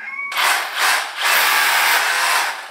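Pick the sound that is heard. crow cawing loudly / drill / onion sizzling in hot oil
drill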